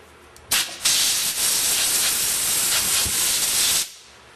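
A loud burst of compressed air hisses steadily for about three seconds, blowing solvent out of a Meyer E 47 during a rebuild, with a short puff first and nothing else around it.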